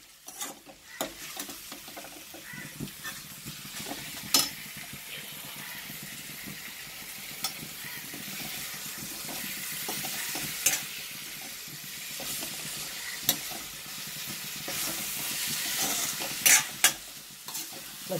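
Chicken coated in masala with small kanthari chillies fries and sizzles in a pan, a steady close crackle with frequent stirring scrapes and bursts of hiss, no voices.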